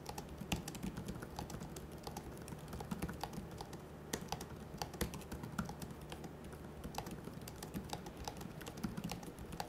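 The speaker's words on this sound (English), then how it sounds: "Typing on this keyboard is not too bad, to be honest." Steady, rapid typing on an Asus TUF A16 2023 laptop keyboard, a dense run of light key clicks at close range with no talking.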